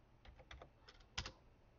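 A brief burst of keystrokes on a computer keyboard enters a value in Onshape CAD: about eight quick, soft taps in uneven clusters, close but quiet, with no voices.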